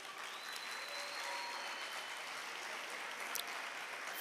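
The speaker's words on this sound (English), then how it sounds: "So a round of applause for each of you" Steady applause from an audience at a Latin Grammy Cultural Foundation education event, dense and even for about four seconds, heard from a moderate distance with no voices standing out.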